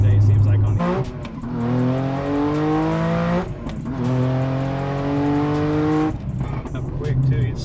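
A Nissan 370Z making over 700 wheel horsepower accelerates hard in low gear, with engine revs climbing steeply in three pulls separated by quick shift gaps, loud and close inside the car.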